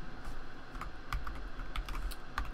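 Rapid keystrokes on a computer keyboard while writing Python code for a Django project: irregular clicks and taps in quick bursts, close and fairly quiet, with no talking.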